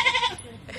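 Short, high-pitched bleat from a baby goat, fairly close and clear, fading into quiet within a second.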